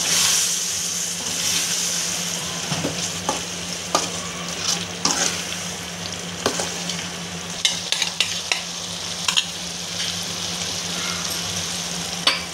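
A ladle stirs asafoetida water in a cooking pan over a steady low sizzle, with scattered scraping clicks and knocks against the metal.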